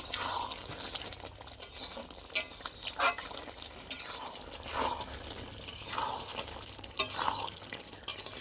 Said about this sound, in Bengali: এই জল দিয়েই ভালো করে কষে শুকিয়ে নেব।